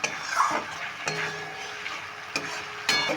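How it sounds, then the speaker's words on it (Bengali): A lentil-paste and boiled potato mixture for banana flower kofta curry is sautéed in a pan, soft frying hiss broken by a few distinct scrapes and knocks of the spatula, close and without talk. "এবার এই ভোগটা মারার জন্য আমি যতটা সময় লাগবে ততটা ভাব কষিয়ে নিচ্ছি ভালো করে"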